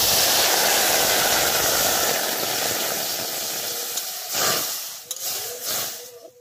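Half a cup of water is poured onto lightly fried white sesame seeds in a hot pan, setting off a loud, broad hiss and sizzle that fades over a few seconds into quieter bubbling and a few clatters.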